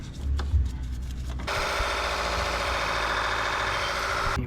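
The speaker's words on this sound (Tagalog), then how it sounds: "gamit tong portable blower natin para mabilis matuyo." A portable blower runs steadily, drying a Honda Giorno 125 scooter after an engine wash, its constant broadband whoosh starting abruptly after a brief low rumble and holding loud and even to the end.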